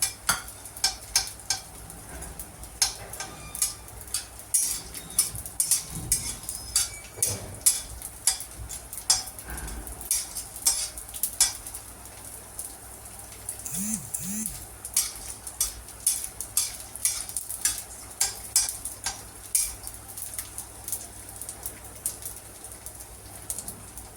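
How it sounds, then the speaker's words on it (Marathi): Edible gum (dink) fries in hot oil for mughache ladoo, giving a steady faint sizzle with light crackles and occasional stirring clinks from a utensil, with no talking. "आपला डिंक पण इथे भाजून म्हणजे तळून झालेला आहे."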